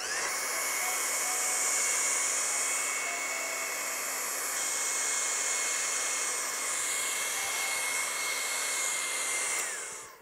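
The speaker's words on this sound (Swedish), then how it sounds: "Då tar man hårtorken," A hair dryer blows hot air over waxed sneakers, giving a steady, loud whooshing hum with a high whine that holds for the whole stretch and fades off at the end.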